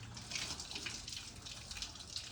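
Water runs steadily from a tap for a couple of seconds while feet are being washed, a quiet continuous splashing with no voices.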